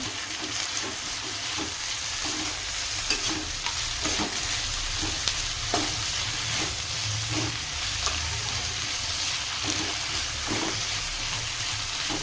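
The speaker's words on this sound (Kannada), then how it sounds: "ಈಗ ನಾನು ಇದರಲ್ಲಿ ಮೆಂತ್ಯ ಪಲ್ಯ ಸೇರಿಸ್ತೀನಿ." Washed fenugreek leaves sizzle and hiss steadily in a hot pan, with repeated scraping and clinking of a spatula stirring them through, close and continuous with no talk.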